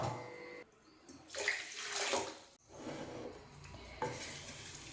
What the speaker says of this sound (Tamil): ரெண்டு கப் சுகர் ரெண்டு கப் தண்ணி சேர்த்துக்கலாம்